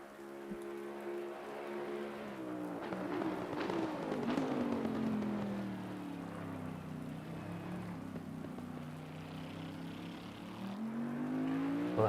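A race car in Assetto Corsa Competizione at Spa drives by, engine note rising and falling through gear changes with steady rushing tyre and wind noise, continuous and fairly close, no talk.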